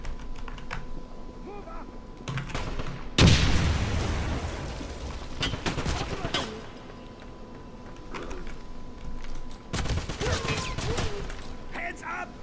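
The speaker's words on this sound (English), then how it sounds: "Take cover! Grenade!" A grenade blast and gunfire in the shooter game Wolfenstein 2: one loud sudden explosion followed by rattling bursts of shots and clattering mechanisms, with someone speaking over the combat.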